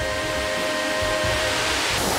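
Kuang Si waterfall in Laos pours heavy water down stepped limestone rocks, making a loud, continuous broadband roar that holds steady throughout with no voices.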